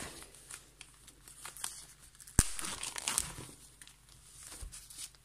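A Stampin' Up greeting card kit is unpacked by hand, producing soft plastic crinkling and rustling with one sharper tearing snap partway through, quiet and close, without speech.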